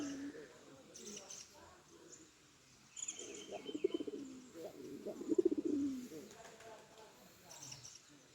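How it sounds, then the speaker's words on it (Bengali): Pigeons coo in low, throaty bursts beside Khecheopalri Lake in Sikkim, fairly close but soft, with faint chirps and quiet human voices in the background. "পায়রা বাগুম বাগুম করছে।"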